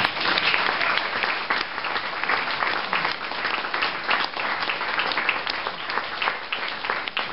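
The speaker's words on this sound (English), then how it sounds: "I'd just like to give Keith Hill just a round of applause from everyone." Guests at a celebration with cake give a sustained round of applause, dense steady clapping from a room full of people lasting several seconds without speech.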